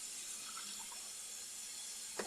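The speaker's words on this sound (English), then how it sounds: "Running that cold water over it." Cold water runs from a kitchen tap over freshly cooked spaghetti in a sink, a steady, soft hissing stream with a brief clatter near the end.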